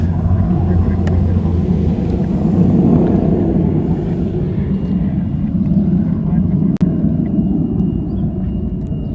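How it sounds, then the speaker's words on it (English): A Boeing KC-135 tanker passes as a steady, loud low rumble with broadband roar, holding level throughout with a brief sharp click near the end; speech faintly present under the engine noise. "This is a KC-135."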